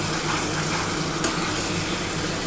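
Spice paste frying in oil in a pan for a tangra fish curry, a close, continuous hissing sizzle with one small pop and no voices.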